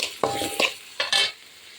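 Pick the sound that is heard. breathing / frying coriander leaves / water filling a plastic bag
frying coriander leaves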